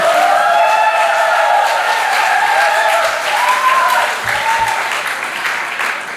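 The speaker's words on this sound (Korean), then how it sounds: "큰 소리로 박수로 환영해 주시기 바랍니다" Church congregation applauding and cheering to welcome a pastor to the pulpit at a Sunday worship service, a dense sustained wash of clapping with a rising whistle or shout on top, holding steady throughout.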